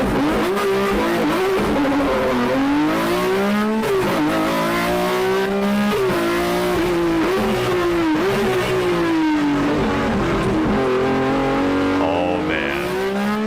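BMW M1 ProCar race car engine, loud and close, climbing and falling through repeated rev sweeps and gear changes in a strongly tonal, high-revving howl that continues without pause.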